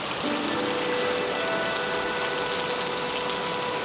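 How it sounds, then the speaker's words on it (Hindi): Steady rain falls at Hiranyakeshi temple in the Amboli forest, a dense, even hiss of drops on surfaces with a faint tonal hum running beneath, constant and unbroken with no talking. "अभी भी बारिश हो रही है।"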